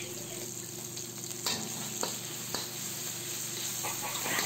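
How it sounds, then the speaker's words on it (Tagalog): Sliced tomatoes sauté in a pan, giving a quiet, steady sizzle throughout with a few faint stirring taps and clicks. "Gisayin lang natin ang kamatis ng 2 minuto or hanggang sa lumambot na ito."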